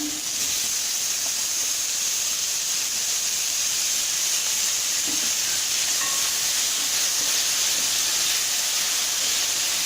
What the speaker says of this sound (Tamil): தக்காளி போட்டுக்கிறேன்.